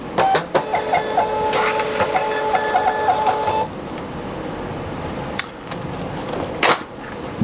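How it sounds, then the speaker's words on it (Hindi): Munbyn TPP129 thermal label printer running off box labels: a rapid whirring feed with a steady chirping pulse for about three seconds, then stopping, followed by a few sharp clicks and rustles of the labels nearby. "सिंपल आपने एक प्रिंट का बटन दबाना है और ये आपकी प्रिंटिंग हो जाएगी।"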